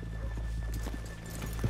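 Horse hooves clip-clop steadily at a walk in Red Dead Redemption 2, a close, even rhythm of hoofbeats over a low ambient game hum.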